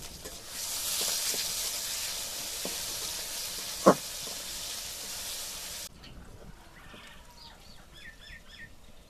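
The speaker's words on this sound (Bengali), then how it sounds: "পেঁয়াজটা ভাজা ভাজা হয়ে গেছে এখন" Onions frying in a pan for potato curry give a moderate, steady sizzle and hiss with a sharp clink midway. The frying then quiets to a faint background crackle.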